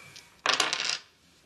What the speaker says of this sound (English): Now throw the dice.